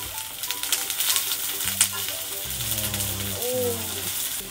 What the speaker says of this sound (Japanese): グリルド、グリル、ビーフを最初にちょっと火を通します。